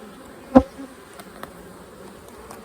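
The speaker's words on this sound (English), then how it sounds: "Definitely some yellow jackets around." Honeybees and yellow jackets buzz around an opened beehive in a faint, steady drone, with one sharp close knock near the start.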